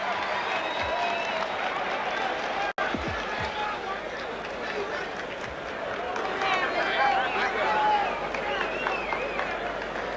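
Crowd cheering and applauding in a convention hall during a 1986 heavyweight boxing bout, a broad, sustained roar under a commentator's voice, swelling slightly toward the end.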